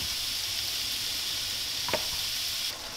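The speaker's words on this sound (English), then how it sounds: "We'll just let that fry away and cook until it's nicely golden brown." Minced meat for spaghetti bolognese fries in a pan, left to brown, with a steady, bright hiss of sizzling fat that holds evenly throughout, close and unbroken.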